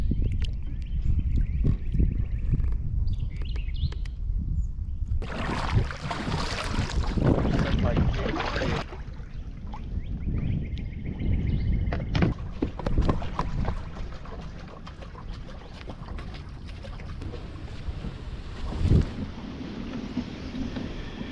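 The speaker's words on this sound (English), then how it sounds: "You can hear Bryson approaching shore in his vessel" Kayak-fishing scene with a small boat or kayak approaching the shore, heard as wind-buffeted rumble and water noise, close to the microphone and continuous, with a loud gust midway and no clear speech.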